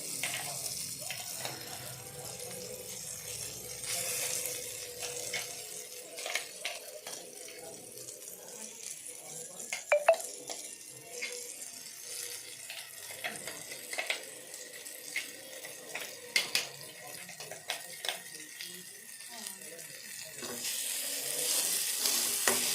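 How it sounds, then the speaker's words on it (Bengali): Pea paste frying in a wok gives a steady, quiet sizzle with scattered clicks and scrapes of stirring throughout, and no one speaks. "ভালোভাবে ভাজতে হবে কড়াইশুঁটি পেস্টটাকে।"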